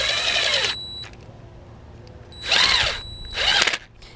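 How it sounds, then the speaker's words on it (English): A power drill whirs in three short bursts separated by pauses, near and fairly loud, during a Chevy Equinox water pump replacement. "For faster work, I'm going to use my drill."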